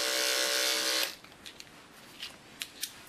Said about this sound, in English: And then I just shave up to the bend here.